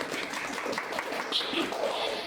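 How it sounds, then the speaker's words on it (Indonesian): Faint, scattered applause from a small audience at a campus radio talk show with students, brief and soft, with some background voices mixed in. "Tepuk tangan dulu dong orang yang di belakang layar."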